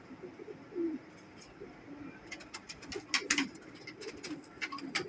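A male Sialkoti pigeon gives soft, low repeated coos, close by, against scattered rustling and clicking noises.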